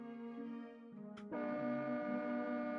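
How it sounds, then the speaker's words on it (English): A sustained multi-tone train horn in Tales of the Black Forest blares, briefly dips, then returns louder and steady, with no talking. "Sounds like a train horn."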